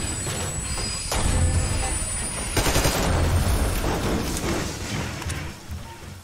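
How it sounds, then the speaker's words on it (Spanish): Rapid bursts of gunfire crackle in a Metro Exodus firefight, dense automatic shots layered over rumbling background noise, loud and continuous with sharper cracks standing out. "Me están disparando, tío."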